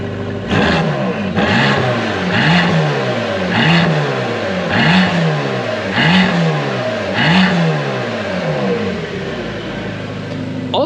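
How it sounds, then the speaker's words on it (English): A Mercedes-AMG GT Black Series fitted with OPUS downpipes revs repeatedly, about eight sharp throttle blips rising and falling in a regular rhythm, loud and close, with a thin whine riding over each pulse. "you hear a lot of the turbo whistle now, because the pipe is straight"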